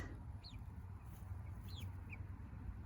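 Seven Freedom Ranger chickens clucking on grass, a few soft, scattered clucks over a steady low background rumble.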